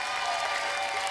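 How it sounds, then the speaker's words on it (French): Studio audience applause greets the jury on a French children's singing talent show, a dense, steady wash of clapping that holds at an even level throughout with no voices over it. "applaudissements"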